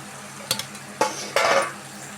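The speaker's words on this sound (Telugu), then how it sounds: "బెండకాయలు వేసుకుందామండి." Okra is tipped into a pan of cooked tomatoes, bringing a few sharp clatters and spoon scrapes followed by a burst of sizzling, heard close with no talk.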